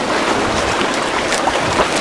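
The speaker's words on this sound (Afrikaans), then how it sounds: "Die wind waai nou so, né?" Wind rushing over a small sailing trimaran out on the water, a loud, broad, steady gusting roar buffeting the microphone, with water sloshing underneath.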